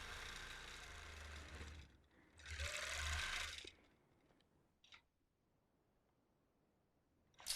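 A longarm quilting machine stitching a quilt, its motor whirring in loud bursts that rise and fall, then stop, leaving quiet gaps with a few faint knocks.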